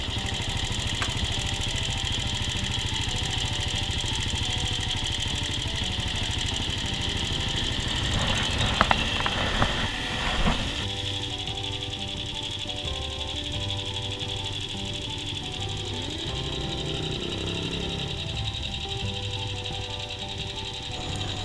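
A Yamaha Vega ZR motorcycle engine runs steadily at a raised idle after its air screw is turned, a constant close mid-pitched drone with a brief rev flutter midway before settling back to an even hum.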